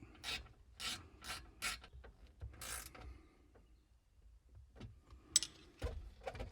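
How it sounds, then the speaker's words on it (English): A homemade support bracket being tightened inside a 1987 Chevy K10 gives quiet, close bursts of ratcheting and rasping clicks, separated by short pauses. "next I'll tighten up my little homemade support bracket"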